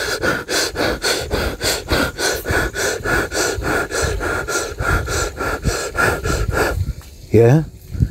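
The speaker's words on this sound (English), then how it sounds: "So, getting the breathing pattern" A person performs a rhythmic breathing exercise, quick forceful breaths repeated at a steady fast pace for several seconds, loud and close, ending with a short vocal sound.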